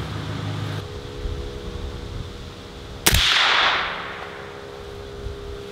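A single sharp, loud gunshot from a .308 Midwest Industries rifle cracks out midway, followed by a brief rolling echo that fades over about a second.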